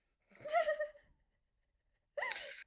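A single sharp sneeze-like burst of breath and voice, close and fairly loud, followed by silence and then a short vocal sound.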